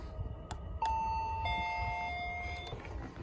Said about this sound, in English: This is the optional doorbell. If you put said doorbell, it's magnetic.